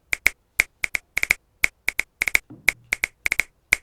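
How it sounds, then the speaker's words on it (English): Crisp finger snaps crack out in quick, irregular bursts, often in pairs or triplets, close and clear with a brief low murmur in between. "Snap sound effect."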